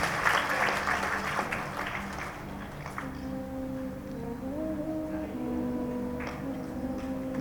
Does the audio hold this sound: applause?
yes